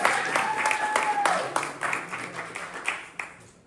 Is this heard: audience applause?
yes